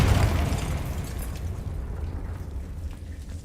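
A Confringo blasting spell explodes in Hogwarts Legacy, a loud booming burst that hits at once and fades into a long rumbling, crackling tail, with no talk over it.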